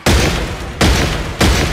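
In the video game Besiege, cannons fire with unlimited ammunition in three loud, booming blasts about 0.7 seconds apart, each with a roaring sustain.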